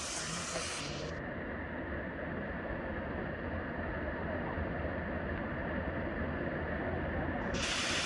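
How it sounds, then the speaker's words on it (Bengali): A waterfall at Netarhat pours into a deep pool below, making a steady, loud broadband rush of falling water that holds unchanged throughout with no voices. "আর ফলসের জলটা এইখানে এসে কুণ্ডে মিশছে, দিয়ে এদিক দিয়ে বয়ে যাচ্ছে।"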